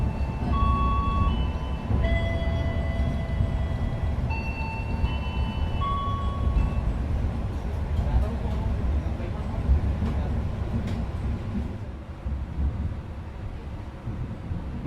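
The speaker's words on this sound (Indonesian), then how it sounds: "Itu nampaknya ada lokomotif kereta Doho ya teman-teman, yang lagi dilangsir dan mau dipasangkan kembali dengan rangkaian kereta api" Inside a station, a Doho train locomotive is shunted to couple with its carriages, giving a low, steady rumble and engine drone throughout, with tonal chimes or announcement tones early on and occasional metallic clanks.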